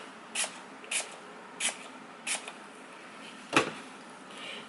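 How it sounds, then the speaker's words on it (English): Five short, sharp spray bursts of alcohol from a pump bottle onto freshly made lotion, fairly evenly spaced with brief pauses, close by in a quiet room. "Spray alcohol, get rid of the bubbles."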